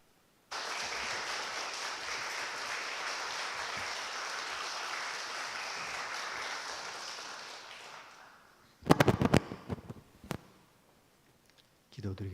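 A church congregation claps together for about eight seconds at a special worship service, a steady, even wash of applause that then stops. Scattered clicks and handling knocks follow.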